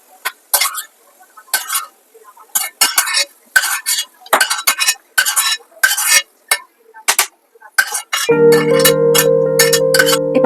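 Cashews and raisins fry in ghee, stirred with a spoon in rhythmic bursts of loud, close scraping and clinking against the pan, then a steady ringing tone takes over for the last two seconds.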